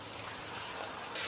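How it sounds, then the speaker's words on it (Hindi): Water poured into a biryani masala mixture of crushed red chilli and spices for a homemade chicken degi biryani, a brief steady gushing pour heard close up with no talk. "थोड़ा सा पानी डालेंगे"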